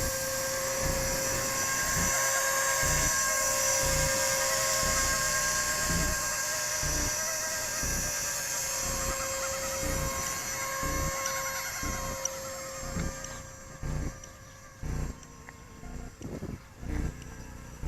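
A 230S scale model helicopter with a triple-blade rotor head hums steadily, a whining motor tone layered over a fast rhythmic rotor chop that drops and breaks up toward the end.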